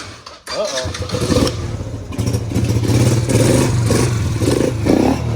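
A Yamaha Raptor 80 four-stroke ATV is electric-started, cranking briefly before the engine catches and settles into a steady, loud nearby idle that carries on to the end.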